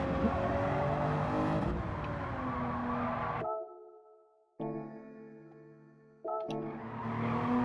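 A race car engine in Gran Turismo 7 on the Nürburgring GP circuit drones loudly with harmonic tones, drops away as it coasts and downshifts into a corner, then returns in two bursts as the power comes back on.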